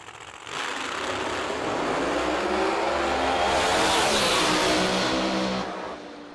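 Drag-racing Corvette with a 959 cubic inch engine launching at a Laytonsville, Maryland strip, a loud, sustained roar that builds and holds for several seconds before fading as the car pulls away.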